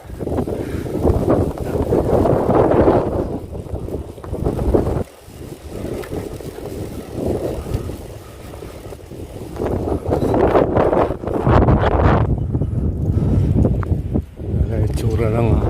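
Strong gusts hit the microphone while cycling along a mountainside road, making a heavy, continuous rumble that rises and falls for the whole stretch, with a brief lull partway through.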